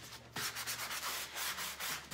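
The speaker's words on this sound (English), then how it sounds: "I'm just gonna kind of sand it down just a little bit." Steady scratchy sanding strokes from a sanding block rub back and forth across wood, close up, in a repeated rhythm after a brief pause at the start.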